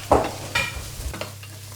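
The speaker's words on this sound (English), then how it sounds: "I'm going to interrupt the proceedings to throw these parsnips and turnip into the onions" Parsnips and turnip tossed into softening onions in a pan, giving a few short scraping stirs and soft clatters over a quiet background hum, with little audible sizzle.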